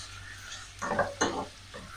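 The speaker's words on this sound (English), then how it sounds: "Keep stirring our prawns." Prawns and vegetables stir-fried in a pan, a soft low sizzle with a few quick scraping strokes of the utensil close by, no voices.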